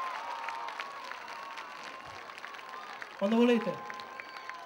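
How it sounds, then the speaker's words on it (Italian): Scattered applause from a concert audience honouring the mothers at a live summer show, thin and somewhat distant beneath a sustained tone, with a person speaking briefly partway through. "Facciamo un applauso alle mamme"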